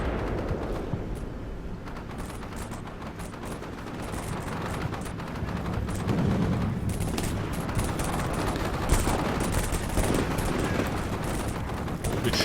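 Dense battlefield gunfire from tanks and infantry in the Combat Mission Shock Force 2 war game, a steady rumbling fusillade of shots and heavier blasts at a distance, continuous throughout with faint voices underneath.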